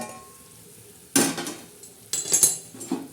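A metal lid clatters off a pot of simmering misal usal, followed by a few more clinks and scrapes of utensils against the pot, close and fairly crisp over a quiet background.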